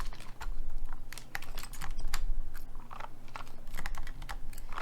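Typing on a Satisfaction 75 v2 prototype mechanical keyboard fitted with GMK keycaps, fast uneven bursts of close, crisp key clacks with short pauses between them.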